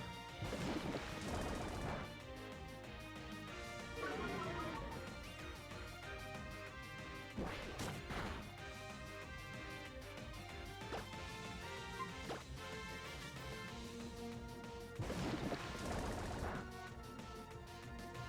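Battle attack hits from the Pokemon Omega Ruby video game, repeated crashing and whacking impacts over a steady game music backdrop, with loud bursts near the start, middle and end.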